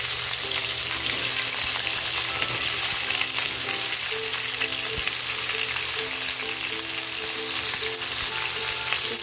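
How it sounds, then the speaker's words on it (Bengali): Mixed vegetables with sweet corn hitting hot oil in a pan, a continuous loud close sizzle and crackle with occasional stirring, no voices. "তেলটা আমার গরম হয়ে গেছে, এখন সবজিগুলো ছেড়ে দেবো এক এক করে"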